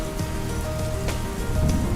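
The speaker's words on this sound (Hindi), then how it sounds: "दक्षिण पश्चिमी मानसून की पहली बारिश" Rain of the first southwest monsoon in the Western Ghats falls steadily on nearby surfaces, a dense patter with a few sharper drops and a low background rumble, with no voices.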